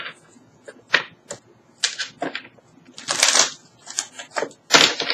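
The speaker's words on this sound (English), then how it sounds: "Give me a second to shuffle." Tarot cards being shuffled by hand in irregular bursts of sharp riffling and snapping, close by with short pauses between them.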